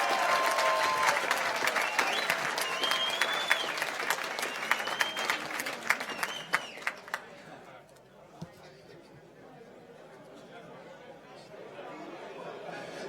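Audience applause at a regional sports and business awards ceremony, a dense crowd clapping with cheers and chatter for about seven seconds before thinning to scattered claps and murmuring in the hall.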